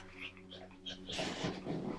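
A dog indoors makes restless whimpering and growling noises, close but soft, over a steady low household hum with faint background sounds.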